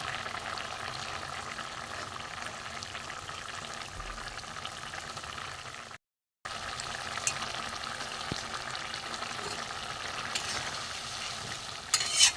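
Mourola fish curry with potatoes simmers in a pan, giving a steady close bubbling and sizzling hiss with soft stirring scrapes throughout, broken by one brief silent gap midway and a few louder clinks near the end.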